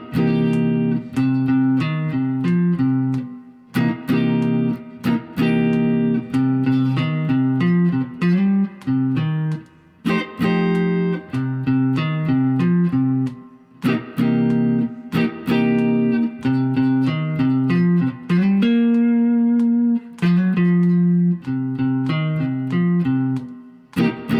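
A clean jazz guitar plays a melody over rhythmic comped chords with short choppy strums and brief pauses, steady and close throughout.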